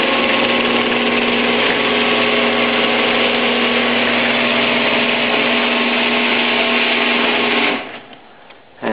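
A Genie Screwdriver Model 880 garage door opener runs with a loud, steady motor hum and rattling drive, continuous for about eight seconds before cutting off abruptly, heard up close.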